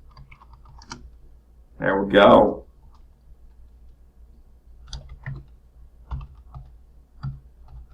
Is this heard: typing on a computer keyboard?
yes